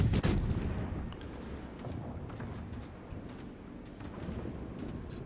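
A warship fires high-explosive shells in a World of Warships operation, Operation Juno: one loud blast opens the clip and fades into a low, steady rumble of distant battle.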